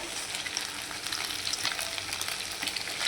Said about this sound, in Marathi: तर आता मस्त पण त्याला फ्राय करून घेऊया